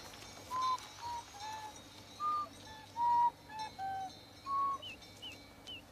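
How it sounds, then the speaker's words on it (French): Birds calling near a village, a series of short clear whistled chirps spaced irregularly over a quiet background, fairly faint and with no voices. "Son attention avait été attirée par des cris d'oiseaux."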